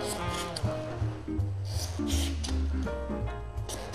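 A small mark is cut out of a template for a ship model's hull, giving close, uneven scraping and rubbing strokes that rise and fall.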